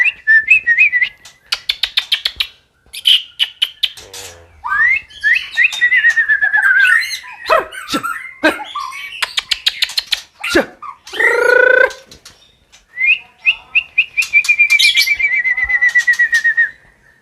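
A magpie-robin sings loudly and close, mixing rapid repeated chips, rattling bursts and long sweet whistled notes in varied phrases.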